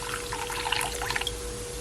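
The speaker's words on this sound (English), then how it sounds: "I'm gonna add at least half cup of my water" Water, about half a cup, pours steadily into a bowl of lamb chop seasoning for jerk honey lamb chops, a close continuous trickle and splash with no talk.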